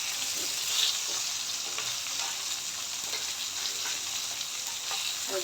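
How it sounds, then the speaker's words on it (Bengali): Fish frying lightly in oil in a wok, a steady soft sizzle with crackling spits and pops, close and fairly quiet, with no talking. "হালকা ভাজা দিয়ে নিলাম।"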